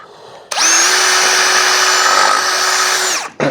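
A power drill with a 10.5 mm bit bores out a hole in a Briggs V-twin engine part, a loud steady whine that starts abruptly, holds for about three seconds, then winds down and briefly restarts.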